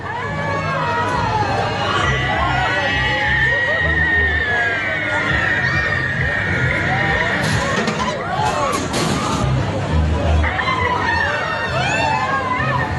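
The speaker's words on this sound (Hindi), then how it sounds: "जरा सुनिए लोगों की चीख पुकार आप भी।" A fairground swing ride collapses at the Surajkund international fair as a large crowd lets out loud, sustained screams and shouts, rising into a frantic peak of wailing and babble midway before continuing as dense, distressed crowd noise.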